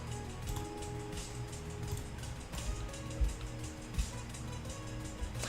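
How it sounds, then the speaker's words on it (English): Simulated thunderstorm rain in an Unreal Engine 5 sci-fi swamp scene: a steady, dense hiss of falling rain with a low rumbling bed and a few soft thumps, continuous throughout with no voices. "And my favorite, thunderstorm."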